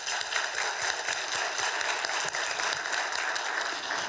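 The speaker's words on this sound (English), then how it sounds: "Let's give Dr. Scott a round of applause." Steady applause from attendees at a school board of trustees meeting, a continuous, even patter of many hands clapping at moderate distance with no talking over it.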